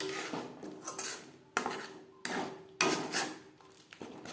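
A utensil scrapes and knocks against a pan while lentil paste is stirred and dried out for kachori filling, giving irregular clatters and sharp metallic hits between quieter scraping.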